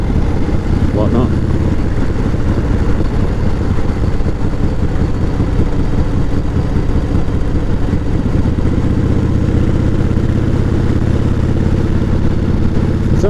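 A 1988 Harley-Davidson Evo Softail with a sidecar runs at a steady, loud, close idle, its low engine rumble and clatter continuous throughout with no voices over it.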